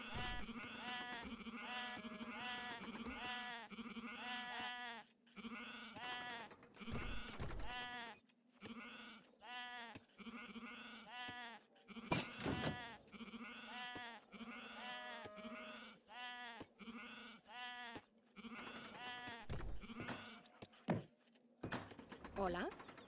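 Sheep bleat repeatedly in the strategy game Age of Empires III, a run of clear, closely spaced bleats in bursts broken by short gaps, with a few clicks and knocks mixed in.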